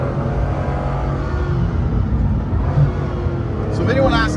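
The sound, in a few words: Bugatti Chiron Pur Sport accelerating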